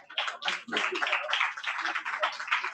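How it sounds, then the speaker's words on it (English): Applause from an audience welcoming a youth panel at the Kenya Internet Governance Forum, dense steady clapping throughout with a few voices mixed in. "help me welcome our youthful panel as they take up their seats with a round of applause"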